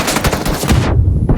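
A video game weapon firing a short two-round burst, loud and close, with a brief second shot trailing after, and no voices.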